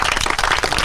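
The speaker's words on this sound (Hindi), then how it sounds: "ताली बजाइए आप लोग।" An audience at a public gathering claps together, a brief, fairly loud wash of rapid overlapping hand claps.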